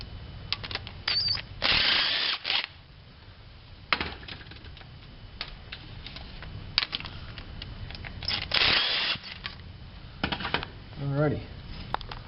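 A ratchet loosening the oil pan bolts on a 1987 Toyota 4Runner 22RE engine during timing chain work: several bursts of rapid clicking pawl sounds, close and crisp, separated by pauses, with someone talking in between.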